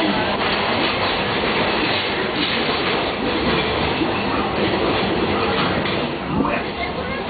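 A Magic Kingdom train rumbling steadily along the rails with rhythmic clattering wheels, loud and close, while a voice announces arrival at Frontierland Station over the noise.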